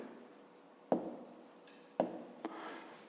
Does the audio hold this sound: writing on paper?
yes